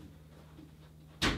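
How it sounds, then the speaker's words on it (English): A door swings shut with a single fairly loud thud after a stretch of quiet room tone. "Dakota, can you close the door?"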